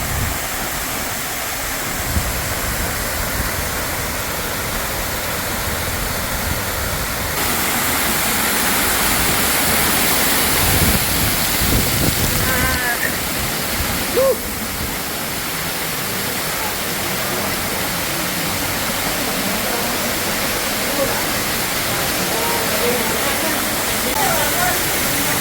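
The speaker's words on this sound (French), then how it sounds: "Alors voici l'entrée de la grotte." Water rushes steadily at the entrance of a cave at Grutas de Tolantongo, Hidalgo, Mexico, a loud, continuous broadband roar that runs the whole way through with slight shifts in level and no clear voices.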